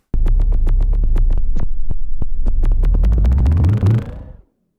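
A synthesized kick drum from Native Instruments Polyplex repeats in quick rhythmic hits, deep booming thumps with sharp clicks, growing denser and rising in pitch before fading out.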